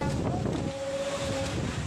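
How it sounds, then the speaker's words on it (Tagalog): Typhoon wind and raging waves at Bacuit Bay, Palawan, where a yacht is moored: a steady, close roar of wind buffets the microphone over the wash of rough surf. "Nagngangalit na alon naman ang nasaksihan ng ilang nangangalaga ng yating ito sa Bacuit Bay ngayong umaga."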